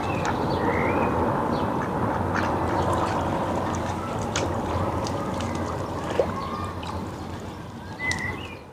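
Ducks quack now and then over a constant outdoor murmur of water, with occasional splashes and no talking.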